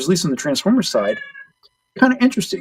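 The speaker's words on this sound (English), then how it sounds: "Yeah, that's my cat." A pet Siamese cat meows loudly in a few vocal bursts close by, mixed in with someone talking over it before a short pause.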